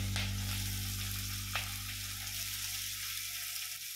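Onion with green chilli and browned garlic sizzles in hot oil in a pan, a steady close frying hiss with a brief clatter early on and no voices.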